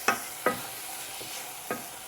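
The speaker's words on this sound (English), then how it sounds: "I added the carrots to it, and I will let it fry for 1 minute too." Carrots frying in a meat pie sauce give a continuous hiss, broken by three or four utensil stirs that come through as soft scraping knocks, close and fairly quiet with no voices.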